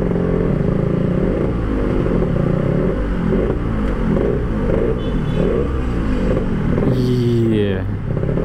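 Yamaha RX-King, an old two-stroke motorcycle, runs with a loud, raspy exhaust drone that rises in a rev toward the end, close up, with people talking over it throughout.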